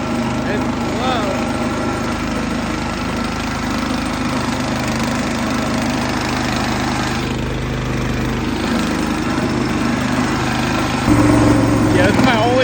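A Bolens 1050 garden tractor fitted with a Predator 212 small engine drives along in third gear, a loud steady mid-pitched engine drone close by, with a voice speaking briefly over it.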